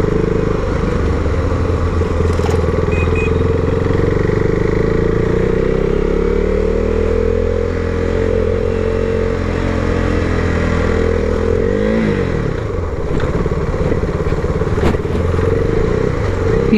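A KTM Duke motorcycle engine roars loud and close while riding, rising and falling in pitch as it accelerates through the gears, joined by steady wind rush and with no talk.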